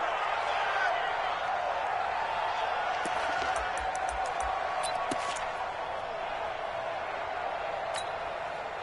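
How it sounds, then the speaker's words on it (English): A dense, roaring crowd fills an indoor football dome during a third-and-goal play, a steady loud wash with scattered claps and sharp clicks, while an announcer talks over it. "The crowd here in the Dome making things difficult."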